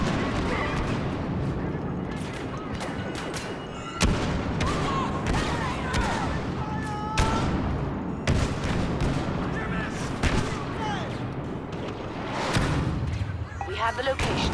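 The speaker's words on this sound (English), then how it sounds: "I mean, just look at this nade spam." Grenades spammed in Battlefront burst repeatedly, sharp booms landing every second or two over constant gunfire and battle rumble, with talk running over the top.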